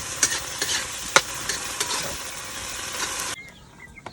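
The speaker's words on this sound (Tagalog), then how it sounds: "Gisahin ko muna itong ano natin, talong, kasi lagyan ko ito ng sabaw." Eggplant sautés in a pan ahead of adding broth for a vegetable dish, with a steady sizzle and sharp scraping stirs of a spatula at irregular intervals, before the sizzle drops away near the end.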